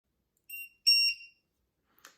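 Two short, shrill electronic beeps from a lithium battery low-voltage alarm sound close by, the second longer, followed by a brief faint click in otherwise silence.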